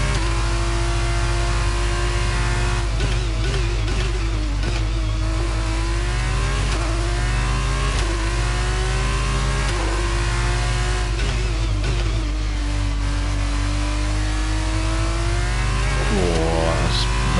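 F1 car engine from the racing game F1 22 at the Azerbaijan circuit, revving loudly under throttle with rising and falling pitch through repeated upshifts and brief lifts, steady and close throughout.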